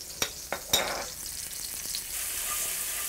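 Cumin powder and minced garlic stir-fry in a pan. A few sharp spoon taps and scrapes come early, then a soft, steady sizzle continues.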